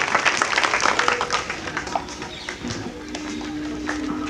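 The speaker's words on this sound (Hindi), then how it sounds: "तालियों के साथ विधायक जी को धन्यवाद।" An audience at a political welcome event claps to thank a local MLA, with steady, fairly close applause from a crowd that gradually thins over a few seconds.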